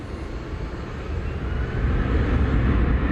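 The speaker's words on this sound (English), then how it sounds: "Flight 3978 America's Green Airline livery is what that was on that Airbus A321neo" An Airbus A321neo in American Airlines' green livery takes off at Dallas Fort Worth airport, a broad steady engine roar that swells gradually louder over a few seconds with no voices.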